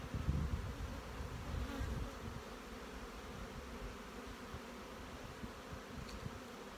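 Honeybees buzz steadily at an open hive during a split, a dense close drone with no talk over it.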